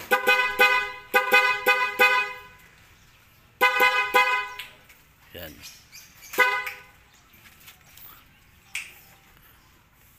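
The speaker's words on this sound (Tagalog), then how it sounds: "Pag binaba mo naman tong try switch niya, loud horn yung gagana." A newly installed aftermarket loud car horn blares in short repeated honks, several bursts in quick succession, then pauses; a voice speaks briefly between them.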